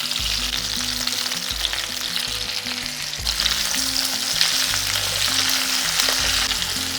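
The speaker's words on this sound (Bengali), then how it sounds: "এখানে টমেটোটাকে খুব বেশি ভাজার দরকার নেই, শুধু একটু নাড়াচাড়া করে সতে করে নিচ্ছি" Chopped tomato and softened pointed gourd sauté in a pan, giving a steady close sizzle with stirring over low background music.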